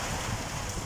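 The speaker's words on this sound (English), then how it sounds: "There is a thunderstorm outside in Islamabad. Hailstorm and raining in Islamabad right now." Rain and hail lash down outside during a thunderstorm in Islamabad, Pakistan, a brief dense wash of steady hissing noise with a low rumbling undertone and no voices.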